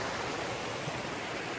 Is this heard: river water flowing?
yes